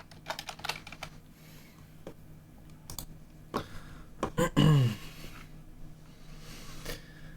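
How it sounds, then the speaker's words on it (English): Computer keyboard typing comes in scattered sharp clicks and brief flurries, close and fairly loud, with a short squeaky rustle midway and sparse clicks trailing off. "Sorry my keyboard is so loud,"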